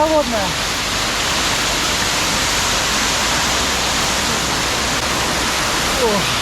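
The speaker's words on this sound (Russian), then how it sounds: "Софийские водопады очень красивые" The Sofia waterfalls near Arkhyz roar as a constant, loud, broadband rush of falling water, with brief voice-like traces at the very start and end.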